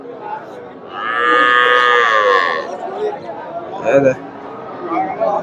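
A single long, loud moo from a cow or calf rises close by over background chatter at a cattle market in Bogura, Bangladesh, followed by scattered crowd noise and a brief thump.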